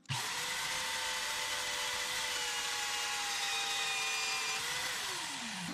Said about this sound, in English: Now here's this mag drill, and I'm just gonna push real hard